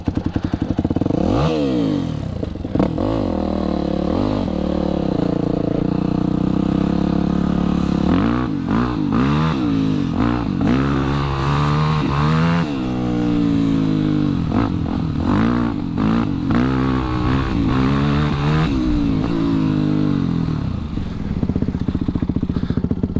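Motocross bikes, a Yamaha YZ426F four-stroke and a Kawasaki KX250 two-stroke, ride nearby with repeated revving surges and gear changes, their engines rising and falling loudly over about twenty seconds with some clatter.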